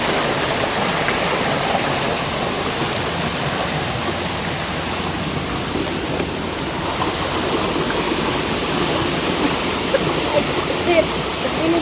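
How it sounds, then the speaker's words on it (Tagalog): Waterfall in a bamboo-lined forest, a steady broadband rushing roar of falling water throughout, fairly loud and even, with no talking. "Oh, ayun, may falls doon, no?"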